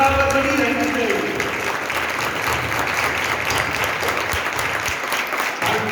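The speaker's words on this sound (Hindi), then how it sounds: "तालियों की गूंज बराबर बनी रहनी चाहिए।" Sustained audience applause at a Republic Day celebration speech, steady dense clapping filling the whole stretch at fairly loud level, with a voice faintly mixed in early on.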